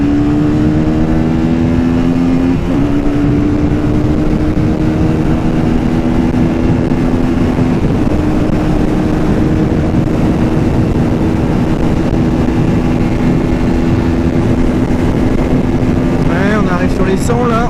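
An Orcal SK01 motorcycle is pushed hard, its engine a loud, sustained high-revving drone with steadily rising pitch under heavy wind roar and close onboard noise.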